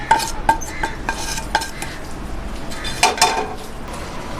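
Roasted spice mixture stirred into a vegetable roll filling, with irregular scraping and clinking of a spoon against a metal pot, a few sharp taps standing out over a faint sizzle; close and moderately quiet, no talking.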